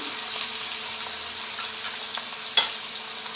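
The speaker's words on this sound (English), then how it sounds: "we're just gonna leave it here for a little while to sear on this side" Beef roast searing in hot oil, a steady bright sizzle running throughout with a few faint pops and one sharp utensil tap near the end.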